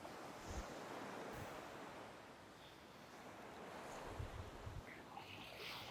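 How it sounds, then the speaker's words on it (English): Ocean waves rolling steadily as a soft, continuous wash of surf with some wind rumble, faint and distant-sounding, with no voices. "Enjoying through this ocean, this beautiful sound of nature."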